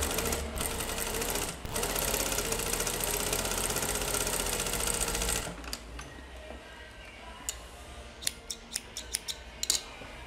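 A sewing machine gathers fabric on a sleeve, whirring steadily and close for about five seconds before stopping, followed by a few scattered faint clicks and handling sounds. No one speaks.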